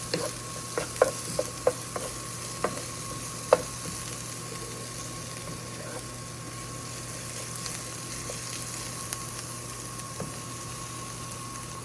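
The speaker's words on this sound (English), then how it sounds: "Now I'll add in my garlic. So I added in the garlic. I'll mix it around." Garlic, green peppers and onions stirred in a pan under a soft continuous sizzle, with light scattered scrapes and taps of a utensil against the pan, faint and close.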